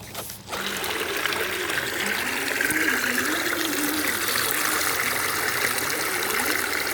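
Water spraying steadily to wash mud off the tracks of a tracked RC car, a constant hissing splash that starts after a brief pause and continues loud and unbroken throughout.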